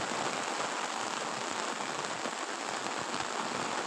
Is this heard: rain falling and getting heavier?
yes